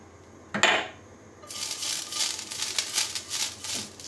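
A frying pan is set down on a stove with a single sharp clunk while making chita pitha, followed by a steady hiss of the burner flame.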